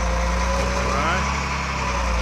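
A 2004 Volvo G710B motor grader articulating its frame, a steady low diesel idle with a faint rising hydraulic whine, with someone talking over the engine.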